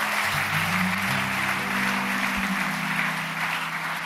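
A church congregation applauding: steady, dense clapping from many hands that fills the room, with a low sustained organ-like hum beneath and no break in the sound.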